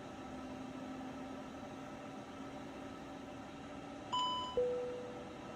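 Two-tone alert chime in Microsoft Flight Simulator 2024, a bright ding followed by a lower tone near the end, sounding over a steady cockpit hum with no talking.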